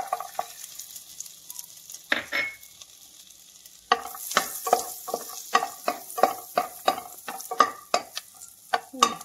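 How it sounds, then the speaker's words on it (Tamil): Ginger and garlic sautéing in a pan, a faint oily sizzle punctuated by a quick series of rhythmic spoon scrapes and taps that grow denser and louder after a short pause, close up and free of speech. "இஞ்சி பூண்டு போட்டுட்டோம். இது கொஞ்சம் நல்லா வதங்கட்டும்."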